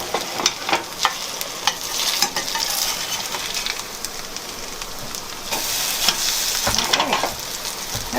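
Belarusian potato pancakes fry in a pan with a steady broadband sizzle and crackle, scattered sharp pops and spatters throughout, close and moderately loud, no talking.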